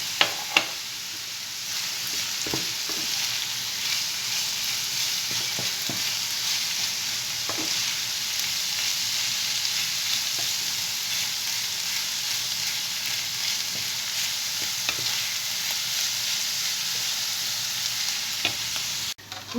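Zucchini and spices fry in a pan, a steady bright sizzle running throughout with occasional soft clicks of a utensil stirring, close and moderately quiet, with no talking.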